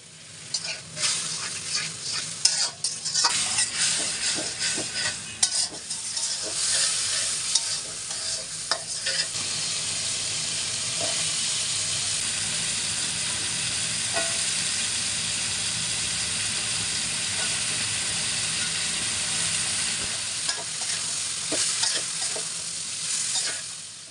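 Shrimp frying in a pan with taro stems, ginger-garlic paste already added, giving a steady loud sizzle with frequent stirring scrapes and clinks throughout, no talking.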